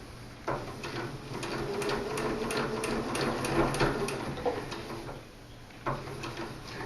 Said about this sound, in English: What we want to do is just get our nice curve sewn